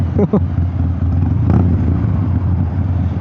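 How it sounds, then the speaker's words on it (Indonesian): A Forty-Eight motorcycle's exhaust roars loudly and steadily close by, a rough, low rumble with a few brief voice fragments near the start. "Sangat menggelegar sekali ya bunyi knalpotnya"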